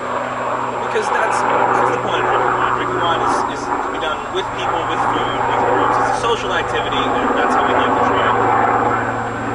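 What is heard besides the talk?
helicopter flying overhead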